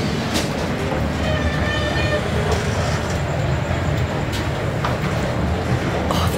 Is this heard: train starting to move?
yes